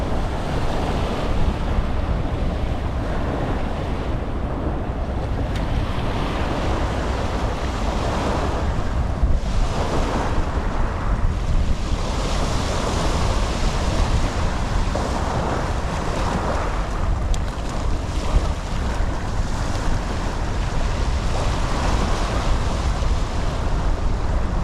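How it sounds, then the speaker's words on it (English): Surf breaking on a beach under a strong easterly wind, a constant loud roar of waves and buffeting wind noise on the microphone, unbroken throughout. "we got an easterly wind coming in"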